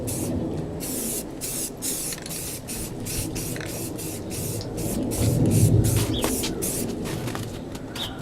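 Self-etching primer sprayed in thin coats inside a hockey rink, heard as a rapid series of close, hissing spray bursts separated by short breaks, with no voices.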